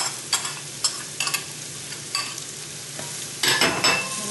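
Onion frying in a pan sizzles steadily at close range while a spoon scrapes and taps against the pan in irregular strokes, with a louder stirring burst near the end and no talking.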